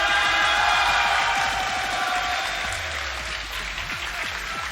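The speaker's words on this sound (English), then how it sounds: "Everyone give them a big round of applause." Audience at a tournament semifinal applauds the players as they are introduced, a dense steady clapping that starts loud and slowly fades a little, with no one talking over it.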